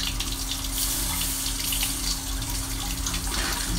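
Tap water runs steadily into a sink for a face wash, a close, continuous gushing hiss with no voices.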